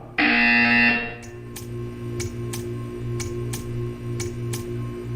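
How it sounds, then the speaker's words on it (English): Portal 2 video game test chamber buzzer, a loud harsh electronic blare lasting about a second, followed by a steady hum with a series of sharp clicks at regular intervals. "When you hear the buzzer, stare at the art."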